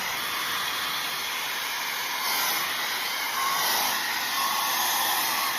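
A multifunction hair dryer curler blows hot air in a loud, steady, broadband whoosh that runs continuously throughout with only slight swells, heard close and without talk.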